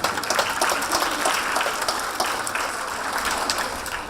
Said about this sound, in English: A round of applause for medical knowledge.